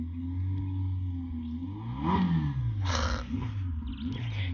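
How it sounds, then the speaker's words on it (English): A blue Lamborghini engine revs nearby with a deep, wavering roar, swelling to a loud peak midway and then settling back to a steady rumble, with no talk over it. "this idiot with his Lamborghini, it's a blue Lamborghini"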